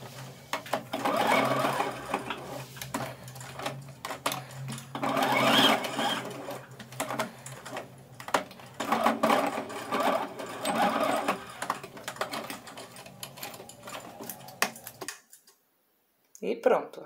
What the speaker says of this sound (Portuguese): a gente vai pegar outra parte do velcro, né, a parte macia, e vamos costurar aqui